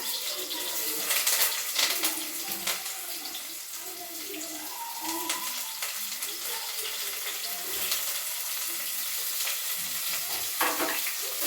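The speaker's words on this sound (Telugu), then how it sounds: "ఆయిల్ అయితే వేడైందండి ఉల్లిగడ్డ ముక్కలు వేసేసుకుంటున్నా ఉల్లిగడ్డ ముక్కలు పచ్చిమిర్చి కరివేపాకు అయితే వేసేసుకున్నా" Onion pieces, green chillies and curry leaves fry in hot oil in a home kitchen, giving a steady, close hiss of sizzling with occasional stirring scrapes and no talking.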